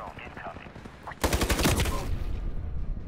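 Gunfire in the first-person shooter Ironsight arrives as a sudden, loud burst of rapid automatic shots. It follows a second of quieter game sound and then fades into fainter ambience with some talk.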